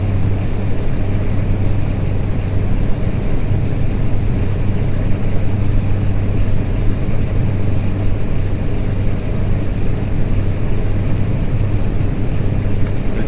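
A truck engine in Euro Truck Simulator drones steadily while driving, a constant low rumble with an even, unbroken hum and no pauses.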